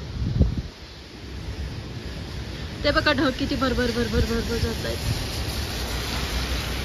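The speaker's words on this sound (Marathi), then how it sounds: "सो पाऊस पडतोय आणि खूप छान वारं सुटलंय" Strong wind roars steadily against the microphone in a broad rushing noise during rain, with a person speaking briefly partway through.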